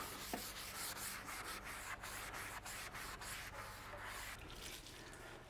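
Steady, close scrubbing of the steel plate on a flat top grill, a continuous rough rubbing with brief strokes running without pause and no talking.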